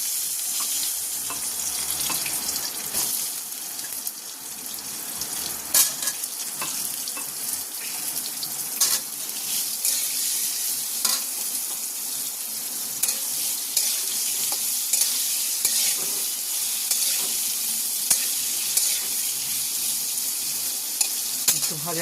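Ridge gourd frying in a pan with cumin, a steady close sizzle broken by frequent small crackles and stirring clicks, heard alone throughout.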